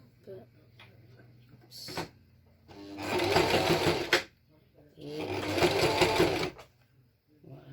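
A domestic sewing machine stitches a child's fabric face mask, running in two sustained bursts with a short reverse pass, fast mechanical needle chatter close up, with quiet handling noises between the runs.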